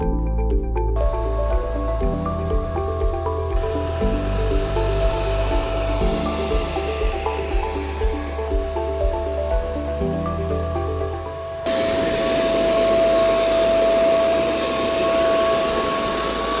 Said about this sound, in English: Start vacuuming while mopping.